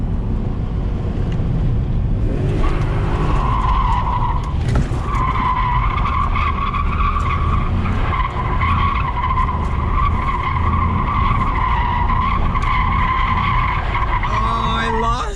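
A BMW E34 530i drift car in second gear at about 4,000 rpm swings into a manji, tires skidding and squealing continuously alongside a loud, steady engine roar for the whole stretch.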